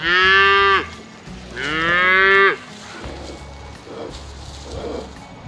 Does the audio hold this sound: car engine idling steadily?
no